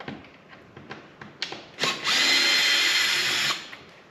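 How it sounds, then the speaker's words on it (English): A cordless screw gun spins screws out of a Lexus GX470 front door panel: a few light clicks and taps, then one steady, loud whirring burst of about two seconds close by, ending abruptly. "let's go ahead and take our screw gun here"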